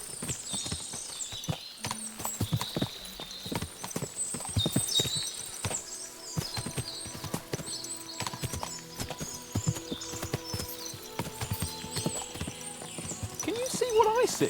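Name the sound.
horse hooves clip-clopping in a video game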